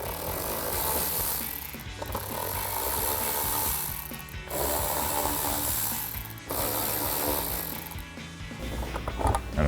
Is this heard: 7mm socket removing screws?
yes